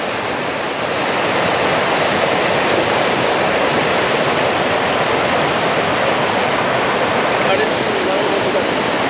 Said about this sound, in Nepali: यो ठाडो खोला र ढुङ्गाहरू बगिरहेका छन्, निकै ठुलो बाढी भेल बाढी आइरहेको छ